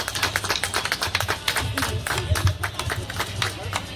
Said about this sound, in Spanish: Así es, fuerte el aplauso.